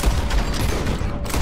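Gunfire in Red Dead Redemption 2, a dense, loud burst of rapid shots that blend into a continuous roar through the whole short stretch, with no gaps between them.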